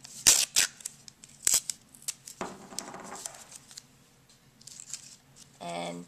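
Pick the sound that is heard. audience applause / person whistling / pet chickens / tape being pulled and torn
tape being pulled and torn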